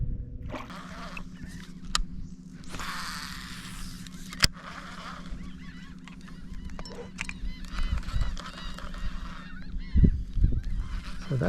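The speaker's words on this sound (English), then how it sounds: "So that sound those seagulls are making is the normal like feeding call." Seagulls give repeated feeding calls over a marsh during a redfish fishing trip, loud nasal honking cries heard above a steady low engine or boat hum, with a few bumps and splashes.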